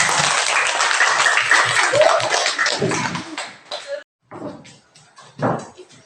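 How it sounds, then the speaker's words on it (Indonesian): Applause from a classroom audience during a school teaching session, dense clapping for about four seconds, then broken into scattered claps with talk mixed in. "kasih tepuk tangan untuk Pak Is yang sudah"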